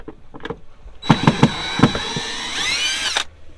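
Power drill backing screws out of an RV water pump isolator: a few soft knocks, then bursts of the whirring motor with short pulses, ending in a longer rising whine close by.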